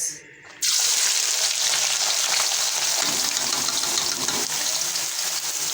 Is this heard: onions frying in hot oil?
yes